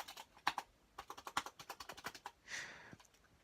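Crisp, clicky keys of a Braille writing keyboard tapped in quick irregular bursts, close and fairly quiet, ending with a brief rustle.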